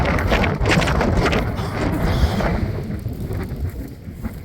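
Strong gusty wind blowing outdoors in Tulsa, heavy rumbling buffeting roar against the microphone, loud and continuous with surging gusts.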